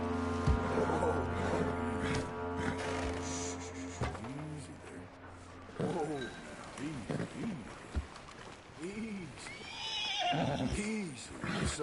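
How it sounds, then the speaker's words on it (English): A horse neighs and whinnies in a video game, several loud wavering calls rising and falling over a background drone and soft movement sounds, with no talk. "But bring that horse when you're done."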